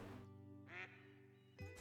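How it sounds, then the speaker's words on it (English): Ducks quack faintly in the hunting game Call of the Wild, two short calls rising over a low, steady outdoor ambience, sounding fairly distant. "Those are ducks."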